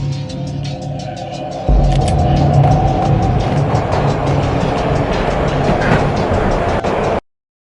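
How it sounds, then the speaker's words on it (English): Train ride in the video game Max Payne: a steady, loud rumble of rolling rail car with rhythmic clacking and metallic rattles, the noise swelling after a couple of seconds and then cutting off abruptly near the end. "This was my second train ride of the night."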